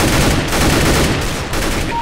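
Rapid, loud gunfire from trick shots in a video game, dense and continuous with overlapping reports throughout.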